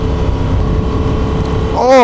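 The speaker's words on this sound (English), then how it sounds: "My bike has the stock exhaust." Honda Transalp 2025 motorcycle with stock exhaust running, a close, steady low engine drone that swells in a brief rev near the end, under wind noise.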